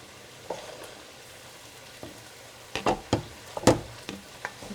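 Spinach and eggs frying in a pan for Persian nargesi give a steady low sizzle. A few sharp, louder crackles and pops flare up near the end.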